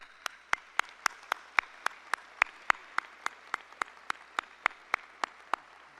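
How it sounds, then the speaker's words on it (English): At a law school commencement ceremony, the audience applauds the faculty, heard as a steady, evenly spaced run of sharp, distinct claps lasting about six seconds with little else underneath. "Please join me in applauding our faculty for their dedication to our students"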